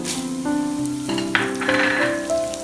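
Spices dry-roast in a pan for Telugu-style idli podi, giving a soft, steady sizzle and crackle up close, with tonal background music running through it.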